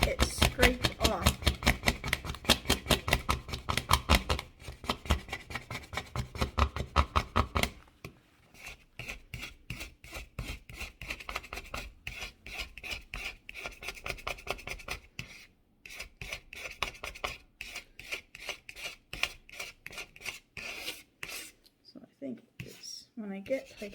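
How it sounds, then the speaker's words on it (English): A metal scraper grinds repeatedly over burnt-on food on a glass cooktop, rasping in quick, close, steady strokes with short pauses, and a person talks over it. "I just got to go slowly until I get it scraped off"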